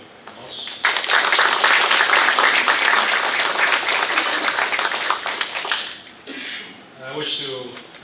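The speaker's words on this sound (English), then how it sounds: "So let's please welcome him with a round of applause." Audience at the Micronesian Islands Forum bursting into sustained, dense applause for about five seconds, then tapering off as a voice briefly speaks and a few claps linger.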